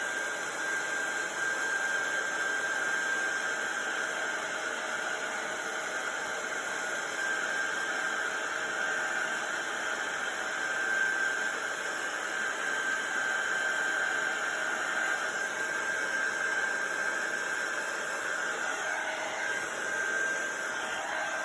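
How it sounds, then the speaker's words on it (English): Heat gun blowing hot air over embossing powder on a card background, a steady close whooshing roar with a thin high whine that holds unbroken and even throughout, with no one talking. "Just missed a tiny bit with my heat gun there, so I'm just going to go back in and heat that part up"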